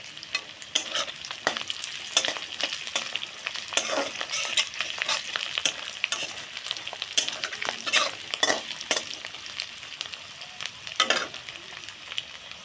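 Lentil fritters (dal bora) frying and being stirred in a pan, with a steady oil sizzle under repeated scraping and turning clatters, close and fairly quiet, no talking.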